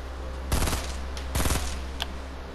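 Fortnite gunfire comes as two rapid bursts of automatic shots, each about a quarter second long, followed by a single fainter shot over a steady low background hum.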